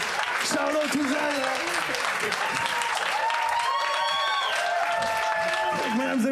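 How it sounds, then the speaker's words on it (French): A comedy show audience applauds and cheers for a comedian, dense clapping mixed with crowd voices and people talking over it. "faites un talent d'applaudissement pour Charlotte Touzan, mesdames et messieurs"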